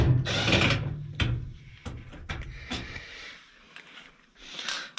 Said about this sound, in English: Take out the 2 bottom ones.